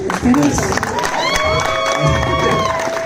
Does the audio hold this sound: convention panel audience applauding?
yes